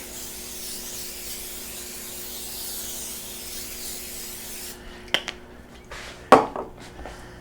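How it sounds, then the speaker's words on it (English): A steady hiss of olive oil being sprayed onto a tray runs for several seconds, then stops, followed by a few light clinks of metal and dishes nearby. "olive oil. Nice little light spray."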